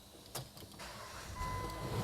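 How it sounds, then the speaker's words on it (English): A car engine cranks and catches after some brief mechanical clicks, then settles into a low, steady idle that grows slightly louder toward the end, with no voices. "We'll then start the car."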